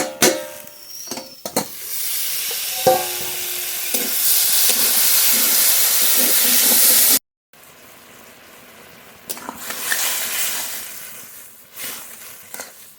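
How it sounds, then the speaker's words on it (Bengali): Sliced ridge gourd being stirred in a hot frying pan in a home kitchen, a loud steady sizzle and hiss with scraping stirs, then a short break before quieter sizzling and spatula scrapes resume. "ঢাকনা তুলে ঝিঙে নেড়ে নেবো"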